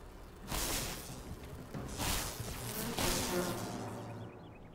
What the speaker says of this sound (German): Die neuen Bienen.